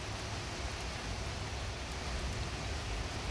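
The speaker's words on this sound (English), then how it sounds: "Going down pretty good rain." Steady rain pours down outdoors as a thunderstorm rolls through, a dense even hiss filling the whole stretch with no breaks and no voices.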